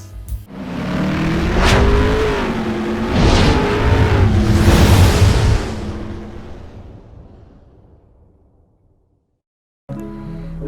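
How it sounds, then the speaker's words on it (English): A Ford Ranger Raptor pickup truck in city traffic revs hard and accelerates through several rising engine pulls, loud and close, then fades away to near silence before a sudden return of noise. "we will find out what it feels like to drive the Ranger Raptor around the city"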